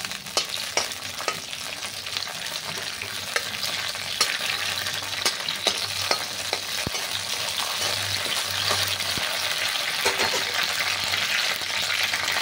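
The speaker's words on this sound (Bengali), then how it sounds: "এই তেজপাতা আর এই শুকনো লঙ্কাটা ফোড়নে দিয়ে দিলাম," Bay leaf and dried red chili fry in hot oil as a tempering for Bengali mutton kosha, a steady close sizzle and crackle with scattered sharp pops and ticks throughout.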